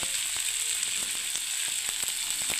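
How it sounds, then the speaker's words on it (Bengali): Onions frying in hot oil for a yogurt eggplant dish, a loud, close, continuous sizzle with rapid clicking stirs and spatters over the whole stretch, no talking. "আমি পেঁয়াজগুলো আগে ভেজে দিচ্ছি"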